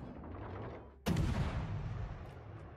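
Naval shells firing and striking in the World of Warships Legends game, aboard the cruiser Västerås: a loud, sharp boom hits after a low rumbling stretch, then a long rolling tail of thunderous echo.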